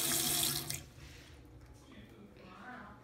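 A hotel bathroom sink tap at Disney World runs water in a loud close rush that cuts off abruptly, leaving faint drips and quiet room noise.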